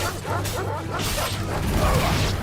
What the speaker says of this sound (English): They got a wolf problem, like right next to town.